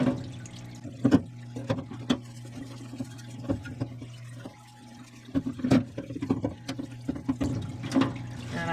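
Water running and splashing while rinsing off rear brake parts on a Honda Odyssey, with intermittent drips and splashes at moderate, uneven level and no talking.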